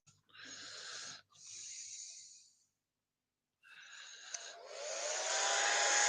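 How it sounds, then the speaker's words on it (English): A hair dryer blows in two short bursts, cuts off for a moment, then starts again and runs louder with a steady whooshing whine. "hairdryer time."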